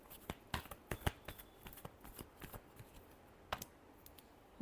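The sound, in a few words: shuffling tarot cards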